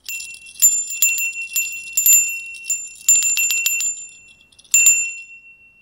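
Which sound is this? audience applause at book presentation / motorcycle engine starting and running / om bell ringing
om bell ringing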